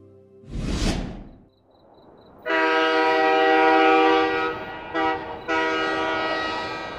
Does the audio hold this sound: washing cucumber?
no